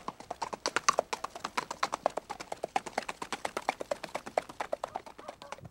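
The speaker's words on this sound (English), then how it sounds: "no horse can manage this gait as naturally as the Icelandic horse" An Icelandic horse moves in its smooth, even gait, its hooves clip-clopping in a fast, steady, regular rhythm of crisp, closely spaced beats, heard fairly faint and alone.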